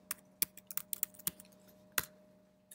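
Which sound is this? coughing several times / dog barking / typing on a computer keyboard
typing on a computer keyboard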